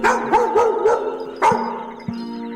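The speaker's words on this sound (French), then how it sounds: "C'était juste le chien qui gardait le cimetière la nuit." A guard dog at a cemetery in a video game barks several times, sharp loud woofs in quick succession followed by a couple of softer yips.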